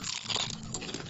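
A Sweet & Tangy BBQ Doritos chip is bitten with one short, close, crisp crunch that breaks into brittle crackling, loud and alone.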